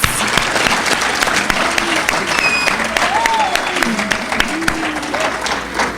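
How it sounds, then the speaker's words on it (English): An audience at a high school all-sports awards event claps loudly and continuously for a staff member, a dense, sustained applause filling the room with a few voices mixed in. "If we could just give a brief pause and clap really fast for Mr. Buller"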